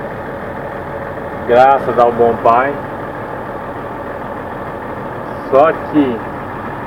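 Truck engine idling after its injection pump and injectors were repaired, a steady low running hum throughout, with someone speaking over it in short bursts.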